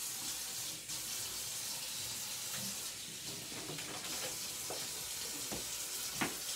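Water runs steadily from a tap during washing at a clinic sink, a continuous splashing hiss with a few brief clatters near the end.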